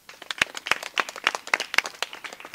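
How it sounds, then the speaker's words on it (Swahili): A small group claps in an irregular, scattered patter of sharp, close hand slaps for a couple of seconds, with no voices over it, as students thank their Scout teacher at a school gathering. "Pigie makofi"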